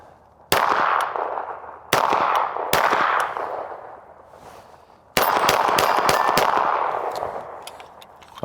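A Canik TTI Combat pistol fires loud, sharp shots in spaced groups: single cracks, then a quicker string near the end. Each shot rings and decays before the next, with no talking.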